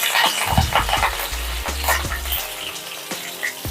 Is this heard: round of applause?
no